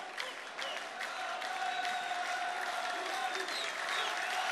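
A concert audience applauds a singer in a hall, with steady, dense clapping and crowd noise that carries on throughout at moderate loudness.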